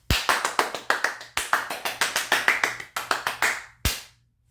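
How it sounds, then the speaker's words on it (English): One person claps alone for themself, about twenty sharp, close, fairly loud hand claps in a quick uneven rhythm. A brief pause comes partway through, then a final louder clap, and silence follows. "I now applaud myself."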